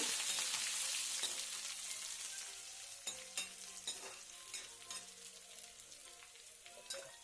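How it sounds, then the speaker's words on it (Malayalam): Dried red chillies and curry leaves sizzle in hot oil for an ash gourd pickle, a faint, steady frying hiss broken by scattered small crackles and pops. "അതിലേക്ക് രണ്ട് മൂന്ന് വറ്റൽമുളക് ഇട്ടു പിന്നെ നമ്മൾ രണ്ട് മൂന്ന് തണ്ട് കറിവേപ്പില ഇട്ടു"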